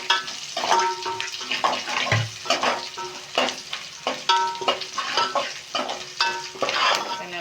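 Dried red chillies frying in hot oil in a village kitchen, with a steady close sizzle broken by repeated scraping stirs of a spatula in the pan, with no voices.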